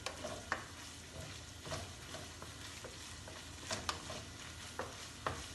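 Onions cook in a pan with a soft, steady sizzle, broken by occasional light scrapes and stirs, close and quiet.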